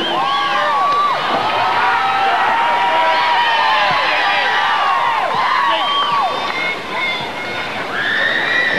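A large arena crowd at the 2000 men's US Olympic gymnastics trials cheers loudly and continuously, with whistles, shouts and high-pitched whoops rising over a dense roar that dips briefly near the end.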